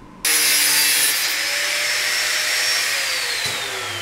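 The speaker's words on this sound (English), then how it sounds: "So we're going to cut it here-ish with a grinder" An angle grinder cuts through the metal tube of a Stihl BT131 post hole auger, starting abruptly with a loud, close, sustained grinding whine whose pitch slowly sags as it bites.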